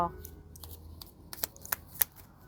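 Tarot cards being shuffled by hand at a reading table, a soft riffling rustle with several sharp card snaps and flicks spread across the clip, fairly faint, with no talking over it.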